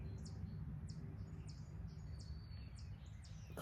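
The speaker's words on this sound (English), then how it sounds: "A very beautiful blackbird too." A blackbird sings outdoors, its short, bright chirps and phrases repeating every half second or so, faint and somewhat distant over a steady low rumble of background noise.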